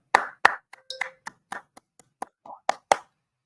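A dozen or so sharp handclaps, loud and close, come in an uneven scattered burst with short gaps between them. A brief tonal blip sits among the claps.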